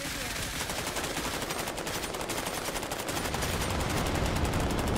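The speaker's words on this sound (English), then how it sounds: "Let's put an airstrike in here." An airstrike in the video game Cepheus Protocol, heard as a dense, sustained roar of rapid gunfire and blasts that fills the whole clip, loud and continuous.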